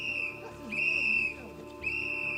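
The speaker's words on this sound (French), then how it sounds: "il faisait que siffler" A sharp, piercing whistle blown by a military training instructor sounds in three sustained blasts, loud and close, with a brief gap between each and faint background noise underneath.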